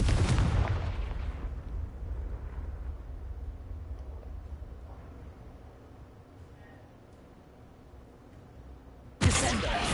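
A Confringo fire spell explodes in Hogwarts Legacy, a loud booming blast that slowly rumbles away into quiet, followed near the end by a second sudden sharp burst.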